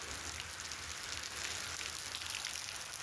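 Heavy rain pours down outdoors in a steady, dense hiss that fills the whole stretch without a break, loud and close, with no voices over it.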